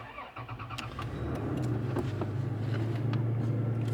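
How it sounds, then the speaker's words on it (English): A car engine cranks briefly, then catches and settles into a steady, rumbling idle, close and fairly loud, with no one speaking. "let's go ahead and start my engine"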